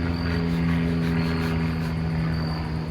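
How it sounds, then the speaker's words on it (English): Airplane circling overhead outdoors, a steady propeller engine drone with a constant low hum, moderately loud and unbroken, with no voices. "the fact that this plane literally has been circling me for so long"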